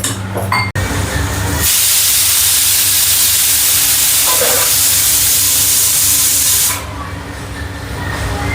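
A pressure cooker on the stove, cooking cluster-bean amti dal, releases steam through its whistle. The loud hiss lasts about five seconds, then fades back to a quieter kitchen background.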